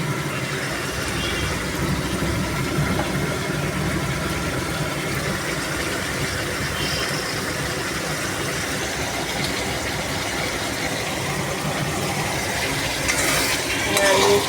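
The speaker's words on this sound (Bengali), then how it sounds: "মশলাটা একটু ভাজা ভাজা হবে, হয়ে গেছে অনেকটাই, আর একটু হবে।" Spice paste with turmeric and salt fries and sizzles steadily in a pan while it is stirred. A low, even hiss with light scraping runs throughout, and no one speaks.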